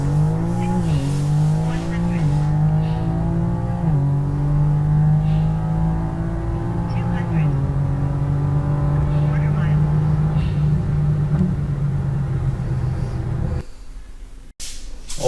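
A 2021 BMW M3 Competition G80 accelerates hard, its engine note loud and close, climbing in pitch through each gear and dropping at the shifts before cutting off abruptly near the end.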